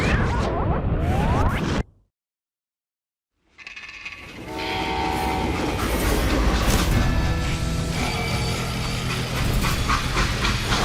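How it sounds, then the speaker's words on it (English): A freight train in the game Call of Juarez: Gunslinger rumbles and hisses loudly after a brief silence, with a sustained horn-like tone and mechanical clatter running steadily to the end. "how'd they stop this train in the first place?"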